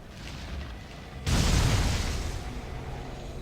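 A bomb explodes in the video game Metroid: Other M, a sudden loud boom that bursts in after a low hum and rolls off in a long rumbling decay, with no one speaking.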